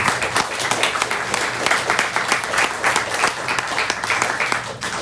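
An audience applauds the volunteers who set up the food and hauled gear up and down the stairs at a kirtan festival night. Dense, steady clapping fills the hall for the whole stretch, with no voices on top.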